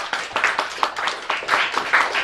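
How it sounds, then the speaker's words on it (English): An audience at a school student showcase applauds a student team with a brief burst of scattered, rhythmic clapping at moderate volume. "Can we please give Butterstick one more round of applause?"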